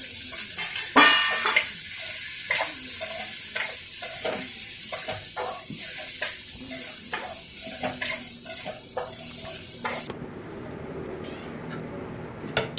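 Tempering for upma sizzles and crackles in a hot pan, a continuous hiss broken by sharp pops and stirring scrapes, shifting to a quieter tone near the end.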